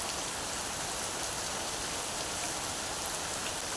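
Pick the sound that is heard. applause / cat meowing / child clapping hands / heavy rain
heavy rain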